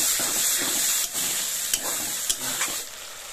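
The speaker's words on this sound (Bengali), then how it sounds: "এরপর মশলা ধোয়া জল খানিকটা দিয়ে দিলাম, দিয়ে কষাবো।" Spice masala sizzles and hisses in a pan while stir-fried with added water for a vegetarian jackfruit and green pea curry, with a steady close frying hiss broken by a few stirring scrapes.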